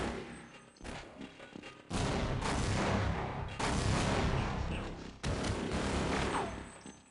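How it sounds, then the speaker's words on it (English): Grenades detonate in Half-Life, three heavy booming blasts spaced a second or two apart, each loud and sustained before cutting off, with smaller thumps before them. "Okay, we're gonna use grenades here."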